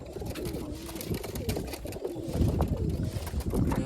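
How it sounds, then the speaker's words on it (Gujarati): Domestic pigeons coo repeatedly at close range, their soft throaty calls rising and falling in steady succession, with a few faint chirps among them. "આમાં જો તો કબૂતર છે બંને"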